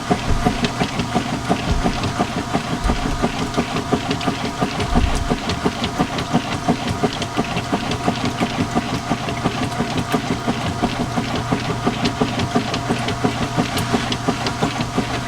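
A top-loading washing machine running mid-wash with worn agitator dogs, a steady low mechanical hum with a fast repeating rattling tick throughout and a few dull thumps near the start, no voices.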